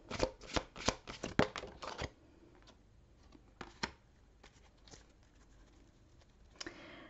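Tarot cards shuffled in a run of quick riffling bursts, then a few scattered flicks and a final short riffle, close and fairly loud in a quiet room.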